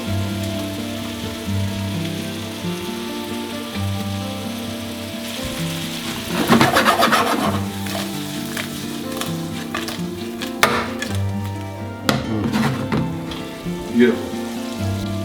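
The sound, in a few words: prawns sizzling in garlic butter on high heat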